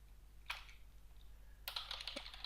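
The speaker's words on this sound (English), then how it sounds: "And type it in to verify." Quiet computer keyboard typing in two short bursts, a few isolated keystrokes followed by a quicker run of clicks, close and soft with no talk.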